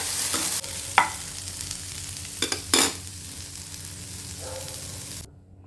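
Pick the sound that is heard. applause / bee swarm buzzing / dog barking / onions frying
onions frying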